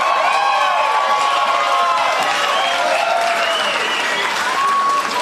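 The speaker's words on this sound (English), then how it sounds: "give a huge round of applause to Gerard Maley" An election night crowd in the Northern Territory breaks into loud, sustained applause with scattered cheers and whoops, a dense, continuous wall of clapping close at hand.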